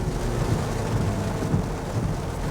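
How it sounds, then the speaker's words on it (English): Steady rain drums on a 2017 Porsche Macan with a four-cylinder engine, a dense, even rush of noise with low rumbling underneath and no voices. "it is raining right now"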